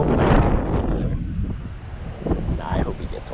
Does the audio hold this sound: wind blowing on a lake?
yes